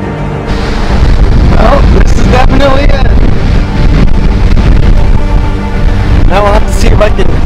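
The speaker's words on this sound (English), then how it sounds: "I don't know if you can hear me, but it's so windy" Loud, steady wind buffeting the microphone at an open mountain vantage point in the Catskills, with a roaring low rumble and a person speaking over it.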